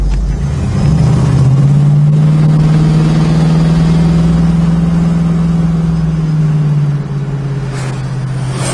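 A 1970 Plymouth Cuda engine runs close by with a loud, steady low rumble that swells slightly, then drops back toward idle near the end.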